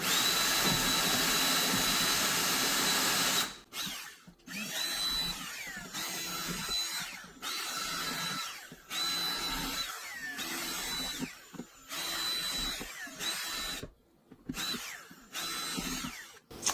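Power drill boring holes into a planter tub, a steady high whine that cuts off and restarts in repeated bursts with short pauses between holes, close by and without talk.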